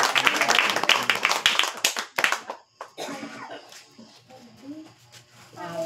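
A congregation at a revival crusade claps in a quick burst that fades out after about two seconds, followed by a voice speaking over a quieter room.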